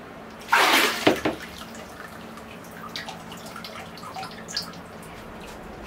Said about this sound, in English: I can return the water in the tray back to the original container, saving the sacred rainwater